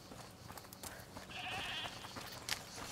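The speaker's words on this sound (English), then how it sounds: "Is that the goat he talked about?" A goat bleating in the video game A Plague Tale: Requiem, a faint, wavering bleat set over a low ambient game background, with a few soft clicks and rustles around it.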